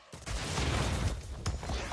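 A sudden loud Crash Bandicoot N. Sane Trilogy explosion: rumbling noise with crackling debris, lasting about two seconds, with a sharp secondary crack near the end.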